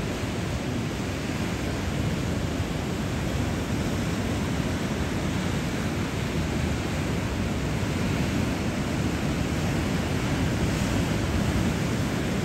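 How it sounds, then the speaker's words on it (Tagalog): Continuous rushing wash of waves rocking a boat, steady and loud throughout, with surf-like swells and a windy hiss but no clear knocks from a hull. "Dinadala ng alon yung bangka"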